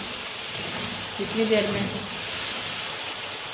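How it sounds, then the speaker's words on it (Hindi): Green peas fry in a pan with a soft, steady sizzle and hiss, partly masked by a voice speaking in Hindi. "देखिए ये मटर हमारे फ्राई हो रहे हैं"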